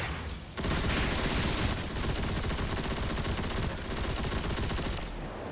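Heavy weapon fire in the video game Destiny 2: a dense, continuous rapid burst of loud automatic shots filling several seconds without pause, cutting off sharply at the end.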